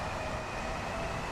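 Gatwick Express train to Brighton on the London Commuter route in Train Sim World 2 gives a steady, close rolling rumble with a faint high whine, unbroken for the whole moment.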